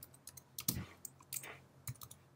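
Keys clatter on a computer keyboard in quick irregular bursts of close clicks, with a few louder strikes standing out and no voice over them.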